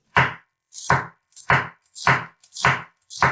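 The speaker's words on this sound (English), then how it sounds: "cut half an onion like this" A knife chops half an onion on a cutting board in six crisp, evenly spaced strokes, each a sharp close thud with a brief crunch, separated by short silences; no voices.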